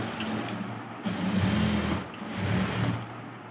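A sewing machine runs in steady bursts while stitching a blouse being embroidered, with short pauses between runs of rapid mechanical whirring. It is close and clear, with no talk.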